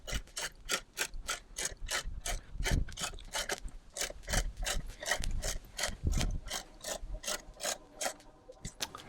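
A 2-ton scissor jack with a ratcheting handle raising a car on level ground, giving a steady series of close, crisp mechanical ratchet clicks at a brisk, even rhythm with faint gear rubbing beneath.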